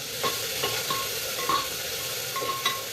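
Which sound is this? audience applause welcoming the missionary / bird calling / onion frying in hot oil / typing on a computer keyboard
onion frying in hot oil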